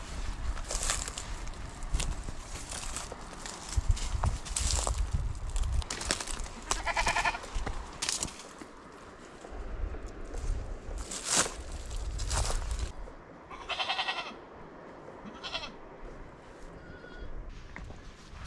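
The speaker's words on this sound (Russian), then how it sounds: "А вон и козы." Goats bleat repeatedly at a middle distance outdoors near an old tunnel on the Turkish coast around Fethiye, several separate calls over rustling and footsteps, with birds faint in the background.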